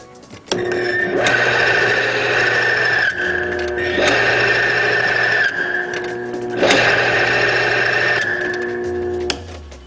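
A lubrication test machine runs with motor oil in its container, giving a loud, steady mechanical whine with high squealing overtones that swells in three repeated cycles, alone and without talk.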